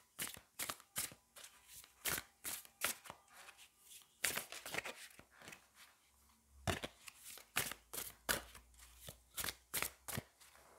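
Tarot cards shuffled and dealt by hand, a long run of crisp riffling slaps and flicks in quick bursts, close and fairly quiet, with short pauses between handfuls and no voice.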